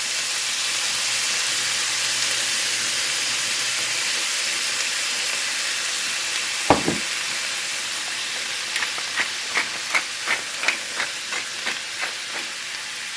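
Shrimp seasoned with salt and pepper sizzle in a hot pan, a loud steady hiss broken by a sharp clatter and then a regular series of short stirring scrapes.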